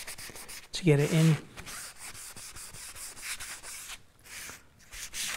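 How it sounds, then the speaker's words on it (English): Scrubbing and rubbing on a model railway platform, a soft rough friction noise in short close strokes, with a person speaking briefly over it. "It's more of a scrub, isn't it, really,"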